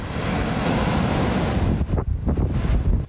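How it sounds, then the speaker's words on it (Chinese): Big storm waves surge at Fugang fishing harbor in Taitung as a typhoon's outer winds blow, a loud, continuous roar with heavy wind buffeting the microphone and a few separate crashing swells near the end. "大浪不断袭来"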